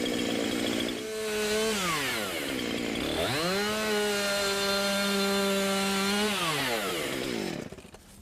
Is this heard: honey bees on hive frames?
no